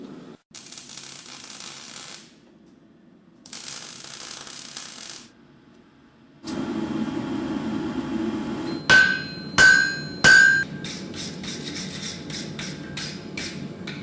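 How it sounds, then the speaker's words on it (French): Hammer forging steel heated in a furnace, with a series of sharp ringing metallic strikes coming in quick succession over a steady background roar, after quieter hissing stretches. "je vais forger grosso modo 200 g d'acier à la fin"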